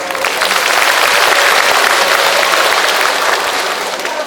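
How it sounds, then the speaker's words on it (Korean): At a senior citizens' festival, a crowd gives loud, sustained applause welcoming the Seo-gu district mayor of Busan, a dense continuous wash of clapping that tapers slightly at the end. "박수 아, 부탁합니다"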